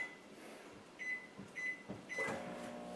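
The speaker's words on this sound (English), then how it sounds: "let me stick this one in the microwave for another minute and a half" A microwave oven heating cinnamon rolls in a Tupperware breakfast maker, a faint steady hum with three short electronic beeps and a closing clunk near the end.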